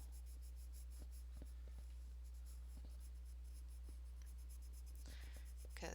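Soucolor colored pencils are drawn across paper in steady strokes, producing a soft continuous scratchy rasp with faint tapping, close up and quiet over a low steady hum.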